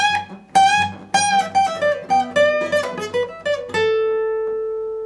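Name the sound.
guitar playing part 4 of a riff at real speed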